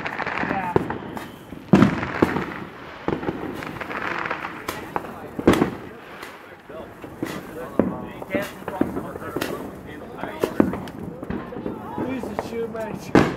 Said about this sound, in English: I was only aiming at the mortar, so that way then whatever was still in it could light.